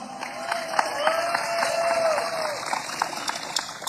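Audience applause and cheering at a formal Indonesian state ceremony, steady and moderately loud throughout with scattered claps standing out and a voice rising over the crowd midway.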